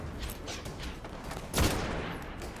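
Gunshots in a shooter video game come as a muffled, continuous patter of fire, with one louder, sharper shot standing out midway.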